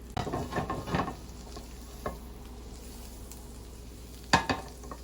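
Garlic sautéing in oil in a pan, a soft steady sizzle with a few stirring clatters early and a sharper scrape near the end, close and fairly quiet.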